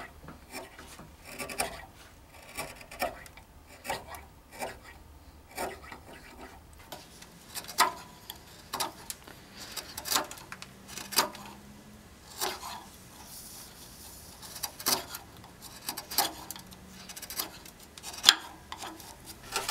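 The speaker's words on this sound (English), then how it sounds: "I'm using a carving gouge to remove the majority of the waste." Carving gouge scraping and chipping into a turned wooden flame finial locked on a lathe, a steady run of short rasping cuts, close and fairly quiet, with no voices.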